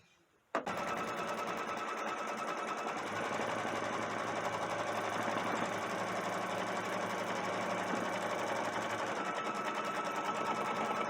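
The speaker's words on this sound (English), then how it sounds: "when this is finished sewing this little outline that's around the top of this" Brother Stellaire embroidery machine stitching an egg outline, starting abruptly after a brief quiet and then running as a steady fast whirring, needle-ticking drone, close and continuous.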